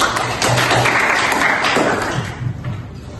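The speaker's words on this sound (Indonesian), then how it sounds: "terima kasih dan tepuk tangan untuk anak Ian." Classmates applaud a student in an Indonesian micro-teaching classroom, a short burst of close, fairly loud clapping with some thumps and background voices that tapers off toward the end.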